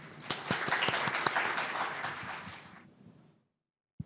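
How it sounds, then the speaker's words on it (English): Round of applause from forum attendees welcoming the Consul General of Japan in Los Angeles to the podium, dense and steady for about three seconds before fading out. "So please welcome Consul General Sone to the podium with a round of applause"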